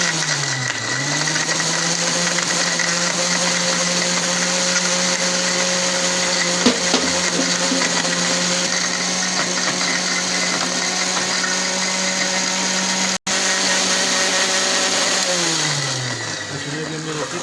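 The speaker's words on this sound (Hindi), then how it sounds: "देखिए, अभी हमने इसको ग्राइंडर को इसके ऊपर रख दिया है। अभी हम मशीन ऑन करते हैं।" A kitchen grinder motor whirs steadily as it blends a date milkshake with milk, spinning up at the start and winding down near the end, a loud sustained hum with a brief cut partway through.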